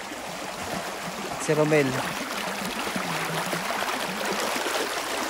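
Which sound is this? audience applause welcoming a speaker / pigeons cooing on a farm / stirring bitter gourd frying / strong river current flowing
strong river current flowing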